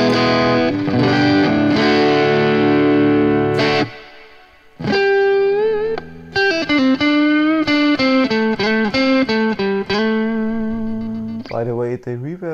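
A single-coil electric guitar plays through a MOOER 012 US Gold 100 preamp pedal into a Victory V40 amp with reverb, sounding distorted and sustained: a ringing chord, a brief pause, then a string of loud picked notes ending in bends.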